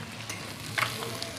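Goat mutton cooking in a pan during a home meal preparation, with a steady close sizzle and occasional stirring scrapes, no talking.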